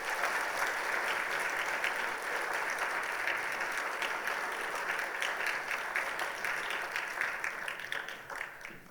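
A church congregation at a Sunday worship service applauds to congratulate a family, a dense, steady roar of clapping from many hands that carries on throughout and fades slightly at the end.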